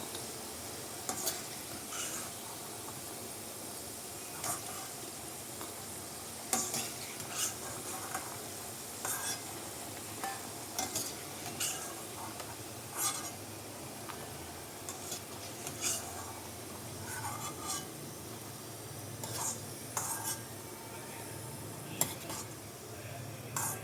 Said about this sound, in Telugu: గోల్డెన్ బ్రౌన్ కలర్ వచ్చే వరకు ఫ్రై చేసుకోవాలన్నమాట.